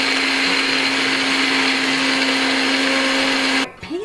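An electric grinder grinding roasted coriander, fenugreek seeds and curry leaves, a loud steady whirring motor whine held for over three seconds before it switches off and winds down.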